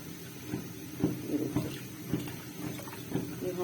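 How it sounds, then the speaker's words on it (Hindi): Water poured into a bowl while preparing a semolina sweet dish, a soft continuous splashing and trickling with a few brief surges, fairly quiet and close. "ये हम डालते हैं इसमें पानी।"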